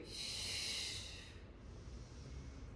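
A long forceful exhale through the mouth during a Pilates ball and foam roller exercise, close and breathy, fading after about a second into quiet room tone with no talking.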